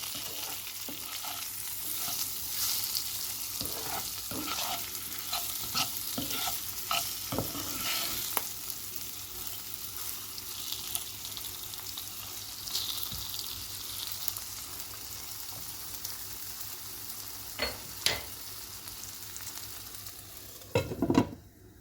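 Red onions with chili flakes, cumin and black pepper stir-fry in a pan, a steady soft sizzle with occasional spoon scrapes and clinks, a louder knock near the end.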